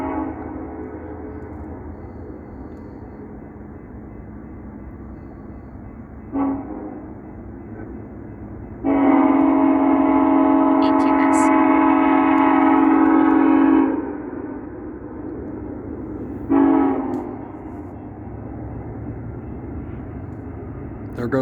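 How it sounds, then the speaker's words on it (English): A train passes close by on a rail line near a Civil War battlefield hill, a loud sustained horn blast dominating mid-clip over a steady low rumble, with shorter horn bursts before and after. "There goes the train right in front of us."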